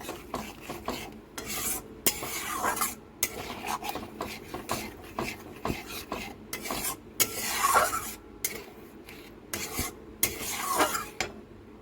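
Poppy seed and melon seed paste is stirred in a pan, with a rhythmic series of close rasping spatula scrapes over a quiet, low sizzle.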